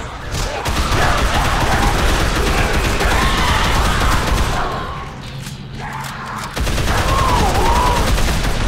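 Sustained automatic gunfire rattles loudly in the Dead Island video game, a dense fusillade that dips briefly around the middle before resuming at full intensity.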